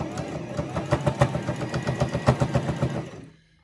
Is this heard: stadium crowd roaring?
no